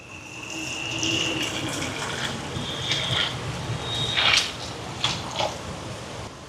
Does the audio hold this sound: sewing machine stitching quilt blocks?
no